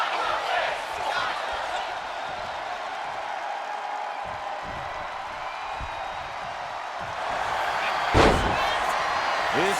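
Wrestling facebuster slam in WWE 2K25: one heavy, booming body impact lands near the end, cutting through a steady roar of arena crowd noise.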